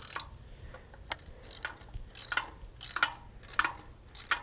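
A socket ratchet tightens a bolt on a boat trailer winch, giving short bursts of sharp, close clicks at irregular intervals over a low background hum, with no talking.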